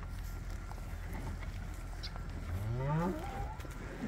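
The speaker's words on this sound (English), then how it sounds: "Hey, cows." Cattle on a farm with calves nearby: a single low, drawn-out moo rises and bends near the end, heard at moderate distance over steady outdoor wind and background rumble.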